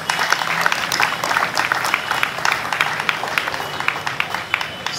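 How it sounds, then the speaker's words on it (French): An audience at a food fair applauds women being honoured, with sharp individual claps scattered over a crowd murmur, fairly close and irregular in rhythm. "Je voudrais qu'ensemble, nous puissions applaudir ces femmes courageuses qui sont parmi nous."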